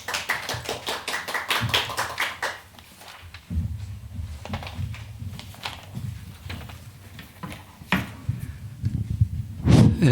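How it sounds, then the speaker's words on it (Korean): Audience applause at a Korean church seminar greeting a pastor as he comes up to speak, a short burst of close hand claps that thins out, with a few louder claps and some talk near the end. "박수로 좀 환영해 주시죠."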